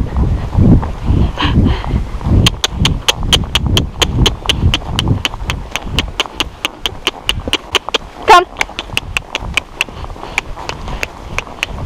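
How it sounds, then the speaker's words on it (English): A horse trotting under a rider, its hooves clip-clopping in a steady, fairly close two-beat rhythm that runs through the whole stretch, with a rider's voice and a little wind noise over it. "And I'll ask him to trot again."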